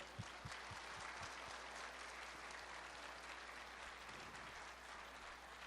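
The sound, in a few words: audience applause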